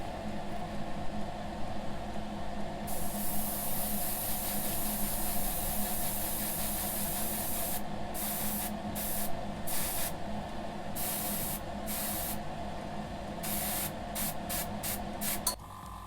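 Steady hiss of an airbrush or spray gun painting a Tamiya Honda NSR500 model carburetor in a spray booth, running nearly continuously, with brief pauses in the spraying near the end.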